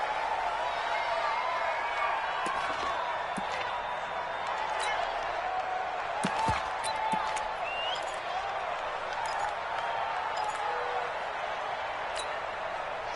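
A football stadium crowd roars and cheers as a big third down approaches, a broad, continuous wash of distant voices with scattered whoops, heard under an announcer talking.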